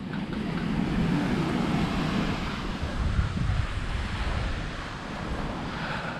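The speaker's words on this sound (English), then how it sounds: "And this is Maluk Beach." Ocean waves at Maluk Beach, a steady wash of surf mixed with wind buffeting the microphone, continuous and fairly loud throughout with no talk.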